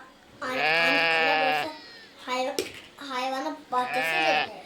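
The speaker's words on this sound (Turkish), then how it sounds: "Koyun sesi çok geliyor." Three loud, drawn-out sheep bleats, close by in a city garden, each a wavering harmonic cry separated by short pauses, with no talking.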